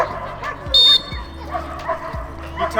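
A dog gives a few sharp barks and yips during French Ring decoy training outdoors, fairly close, with a brief buzzer-like tone and people talking.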